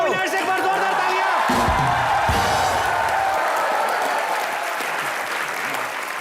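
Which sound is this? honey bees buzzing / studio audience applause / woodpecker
studio audience applause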